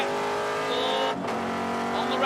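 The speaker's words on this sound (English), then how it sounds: "JP, again, a bit more oversteer. On the rev limiter" A vintage race car at Mid-Ohio, driven with oversteer, holds a steady, loud, high-pitched engine note bouncing on the rev limiter, with a brief dip midway, under a race commentator's voice.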